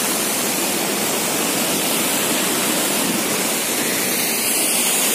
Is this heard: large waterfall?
yes